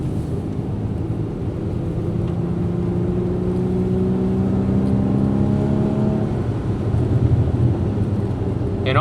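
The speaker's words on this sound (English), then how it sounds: "And all this sound is just cabin noise." Inside a Porsche 981 Boxster S with a six-speed manual, driving through snow with the windows closed, a continuous low cabin rumble and engine drone hold steady, with slowly shifting engine tones rising and falling throughout.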